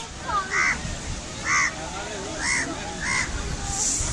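Crows caw in a series of five short, harsh calls at about one-second intervals by Ana Sagar lake in Ajmer in the evening, over a background of crowd noise and faint voices.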